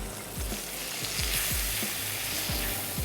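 Maida flour roasting in a hot pan, a steady broad sizzle with repeated low scraping thumps from stirring, close and continuous.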